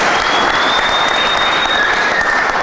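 A church congregation applauding to acclaim Jesus, with steady, loud, dense clapping and a faint whistle-like tone running through it.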